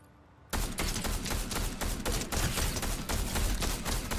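Dense, continuous gunfire from a Fortnite zero-build duos match, a rapid burst of overlapping shots starting abruptly after a short quiet moment and rattling on steadily at high volume with no talk.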